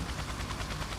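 Helicopter rotor chop in a flight simulator game, a steady rhythmic thumping drone that runs without a break.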